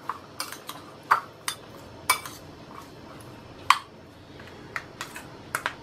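Chopped vegetables and small paneer cubes are mixed in a bowl for pizza chaat, with a spoon clinking against the bowl in scattered sharp taps over a quiet background.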